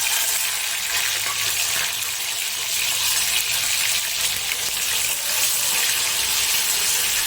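Chopped garlic and tomato sizzle steadily in hot oil in a pan, giving a continuous bright hiss with no breaks or voices.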